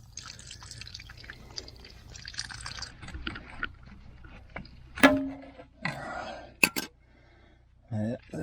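Liquid drips and trickles from a corroded pipe on an old Suzuki LJ50 jeep left abandoned for 20 years, heard as close dripping and splashes under people talking.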